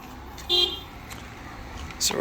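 Car horns toot in a traffic jam in Najaf, Iraq: two short honks about a second and a half apart over a low street murmur, with voices nearby.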